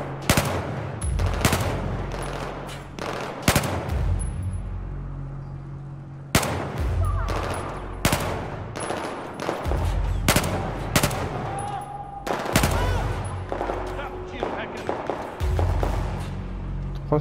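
Bursts of rapid automatic gunfire in Battlefield 4 crackle in sharp, loud volleys, broken by short pauses, with video-game style effects between the shots.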